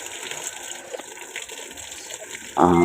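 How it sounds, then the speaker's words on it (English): Water flows into a washing machine with a faulty inlet valve, a steady hiss and rush that swells into a louder gush near the end, close up with no voices. "Non-stop water is coming."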